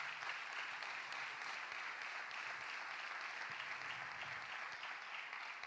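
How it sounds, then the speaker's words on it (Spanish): Congregation applauding during a Spanish-language Christian sermon in church, a dense, steady wash of many hands clapping at an even level throughout, with no voices standing out. "Le damos un aplauso fuerte a esta palabra"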